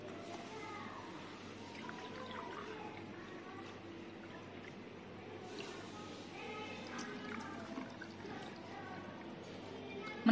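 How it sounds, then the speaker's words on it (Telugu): Water trickles and splashes softly as it is poured into glasses for a floating candle arrangement, a faint continuous pour in a quiet room. "ఇప్పుడు మనము ఫస్ట్ వాటర్ నింపుకోవాలండి గ్లాసుల్లో"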